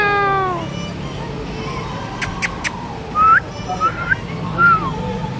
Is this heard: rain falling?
no